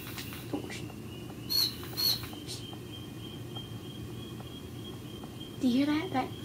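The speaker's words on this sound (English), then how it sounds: "That's my bird Nippy. He's really loud." FurReal Friends toy electronic newborn parakeet chirping loudly in several short bursts, with a few shrill squeaky calls over steady background noise, close to the listener.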